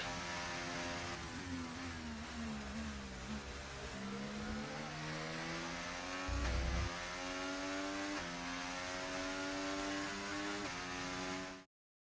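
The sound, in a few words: race car driving in F1 24 video game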